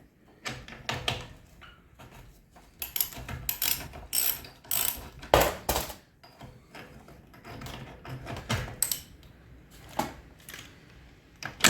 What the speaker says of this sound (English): Try to turn it the other way. Hopefully, get that socket off easily.